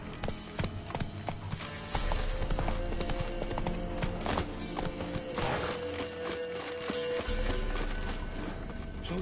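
Roach, Geralt's horse in The Witcher 3, gallops in a quick, rhythmic clip-clop of hooves that carries on steadily throughout, fairly loud and close, with faint ambient game sound beneath.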